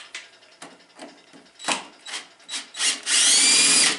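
A power drill whirs in short bursts and then runs continuously while taking apart a quarter scale outboard motor with a broken gearbox, loud and close, with some clicking mechanical handling between bursts.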